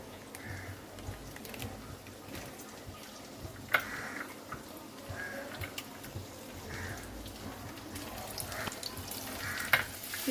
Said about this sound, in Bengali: একটা শুকনো লঙ্কা ফোড়নে দিয়ে দিলাম আর এই যে রসুন আর আদাটা আমি কেটে রেখেছি এইটাই দিয়ে দিচ্ছি